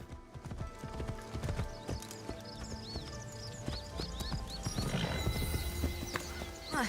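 A horse's hooves clip-clop at a steady trotting rhythm in the video game Assassin's Creed Shadows, fairly faint, with a brief whinny and light ambient chirps toward the end.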